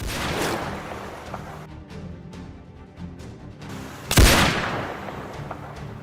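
Gunfire during crocodile hunting in northern Australia, with one loud, sharp shot standing out after scattered quieter cracks and bangs.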